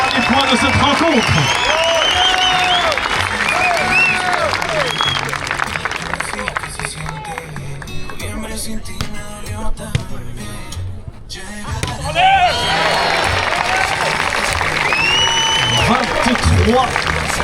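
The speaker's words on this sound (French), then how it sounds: "Applaudissements s'il vous plaît pour les deux équipes" A crowd at the Annecy 2025 volleyball tournament final claps and cheers loudly, with shouted voices riding over the noise, thinning to scattered claps and sparse sounds midway before swelling again near the end.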